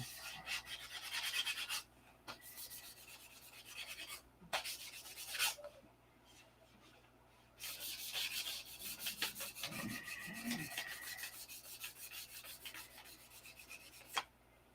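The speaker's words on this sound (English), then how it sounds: "Okay, we got this one sanded up." A P-47 model airplane part covered in Jap tissue and silk span is sanded by hand in bursts of close, raspy rubbing strokes, separated by short pauses.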